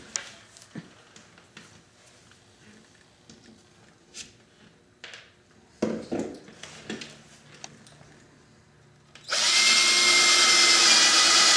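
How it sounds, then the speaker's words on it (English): A power drill bores a hole deeper into the wooden base of a carved cowboy's horse. It runs as a loud, steady whine through the final couple of seconds, after scattered handling clatter and bumps. "what I'm going to do is drill that hole a little deeper"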